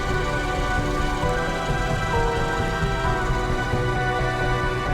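Rain falls steadily during a road trip down a mountain pass, a dense, even hiss of drops that stays loud and unbroken from start to finish.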